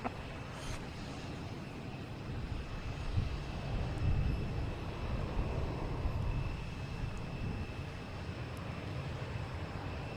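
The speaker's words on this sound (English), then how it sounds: "And we got JetBlue and A321 heading to West Palm Beach." JetBlue Airbus A321 jet at Boston Logan Airport, a steady distant engine roar and broadband rumble that swells slightly midway, heard alone.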